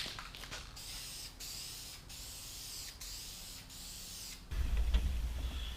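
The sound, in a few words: spray painting a truck dash part with Duplicolor charcoal gray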